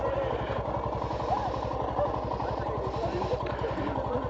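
A motorcycle engine runs steadily at close range, its low, even pulse continuing through a gear shift, with riders talking over it in a cave area.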